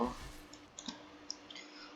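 A computer mouse clicks a few times while a tower defense video game plays, the sharp clicks faint and close against a soft background of game sound.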